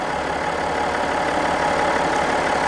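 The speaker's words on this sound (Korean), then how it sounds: "잠시 엔진 소리 들어보고 가실게요." A BMW X5 diesel engine idles steadily with its hood open, a continuous even rumble with a faint knocking texture, close and unbroken, with no voices.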